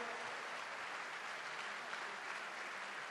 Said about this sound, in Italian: Un applauso per lui, per il nostro grande governatore.